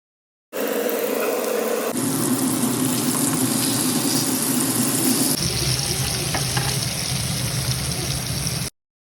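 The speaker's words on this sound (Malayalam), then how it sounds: "നമുക്കിനി ഫിഷ് ഇങ്ങനെ മാരിനേറ്റ് ചെയ്തത് നല്ലോണം ഒന്ന് ഷാലോ ഫ്രൈ ചെയ്ത് എടുക്കാം." Marinated fish shallow frying Kerala style, a steady broadband sizzle of hot oil that runs continuously throughout, brightening and thickening partway through, with no voices.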